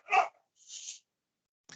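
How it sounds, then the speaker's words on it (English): A single short dog bark, followed by a faint breathy huff and a brief clipped sound, with silence in between. "I think that was your dog there."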